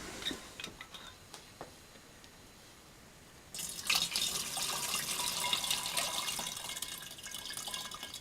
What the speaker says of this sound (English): go to the next jug and swish it well.